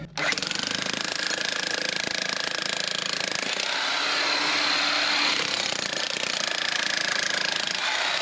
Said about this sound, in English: I'm just going to grab the jackhammer now, bring him in, do a bit of a pick at the face